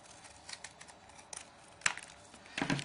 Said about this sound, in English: And then I cut 2 leaf shapes out of there.